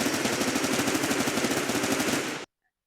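OTS-14 Groza rifle fired at close range in Roblox Anomic, a sustained rapid automatic burst of loud, evenly spaced shots that cuts off abruptly into silence.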